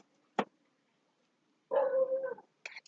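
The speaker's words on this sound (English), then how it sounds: "Excuse my dog." A dog indoors gives a sharp single bark, then a longer whining bark-howl and a final short yelp, each brief and fairly close, with quiet pauses between and no talking.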